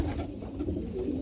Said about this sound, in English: He's already cooing and calling.